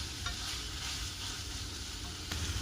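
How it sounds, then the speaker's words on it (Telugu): Mutton keema with green chillies fries in oil over a low flame, a steady, even sizzle heard close up with faint stirring movement. "ఇలా ఆయిల్లో ఫ్రై అవ్వడానికి ఒక ఫైవ్ మినిట్స్ పడుతుంది"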